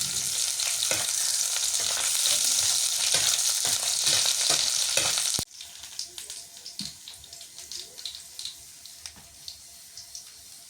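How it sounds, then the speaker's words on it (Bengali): Chili, onion, garlic and dried chili fry in hot oil in a village kitchen with a loud, dense sizzle for several seconds, then the hiss drops sharply to quieter crackles and occasional stirring clicks. "আগে মরিচ পেঁয়াজ ভেজে নিই। রসুন আর শুকনো মরিচ পেঁয়াজ ভেজে।"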